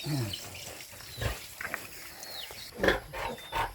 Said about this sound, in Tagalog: Ayan po yung ating baboy. Naging 13 na po yan, piraso.